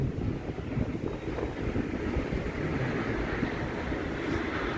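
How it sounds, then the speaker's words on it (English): Strong, steady rumbling gusts buffet the microphone outdoors on a Toronto street in the evening, a loud low roar of wind noise that persists throughout without pause. "It's windy, yeah, it's windy right now, and it's going to get windier."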